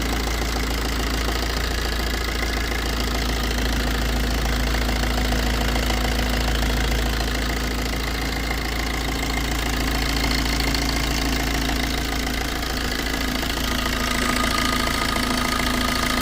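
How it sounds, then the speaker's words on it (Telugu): A used Maruti Swift VDi diesel car idles, its engine giving a steady, close, continuous clattering rumble that holds even for the whole stretch without any voices. "సో ఇంజిన్ సౌండ్ అయితే బాగుందండి ఎటువంటి నాయిస్ కానీ ఏమి లేదు"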